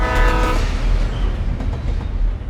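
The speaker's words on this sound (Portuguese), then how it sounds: "É só o trem." Train passing in the video game Alan Wake, a loud rumbling roar with a horn blast at the start, then heavy clattering rolling noise that stays close throughout.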